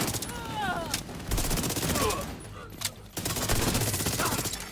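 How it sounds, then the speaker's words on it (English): Rapid enemy gunfire in The Division 2, bursts of shots crackling through a busy combat mix, with a player's voice talking over parts of it. "Why are they shooting me?"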